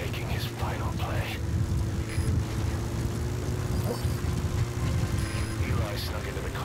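A helicopter flies in the Metal Gear Solid V video game, a steady low rotor and engine drone running throughout, with a voice talking over it.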